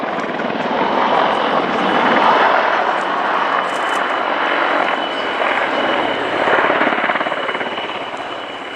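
Apache attack helicopter at an airshow flying a bunt manoeuvre overhead, a loud continuous rotor and engine roar that swells and eases slightly as it passes, with no voices.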